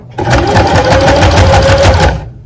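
A sewing machine running a back stitch through fabric while understitching, a loud, close, rapid mechanical whir of needle strokes lasting about two seconds before stopping.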